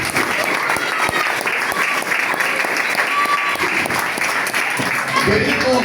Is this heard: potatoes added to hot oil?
no